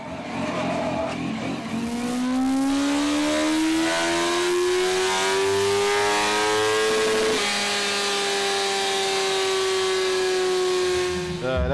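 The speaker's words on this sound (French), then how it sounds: "pendant que certains testent leur moto au banc d'essai," A motorcycle engine revs up steadily for several seconds on a dynamometer at a motorcycle festival, its pitch climbing, then drops and holds a high, droning whine, loud and continuous.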